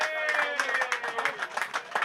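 Crowd applause for a departing batsman at an amateur Sussex Slam cricket match in Hailsham, a spread of scattered handclaps from a small crowd, fairly distant, with faint voices mixed in.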